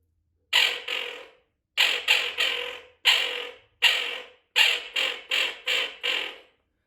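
A handheld Kynat TH1 acrylic duck call imitating a female wigeon gives short, harsh, creaky quacks in clustered bursts of two to five notes, close up with silent pauses between groups.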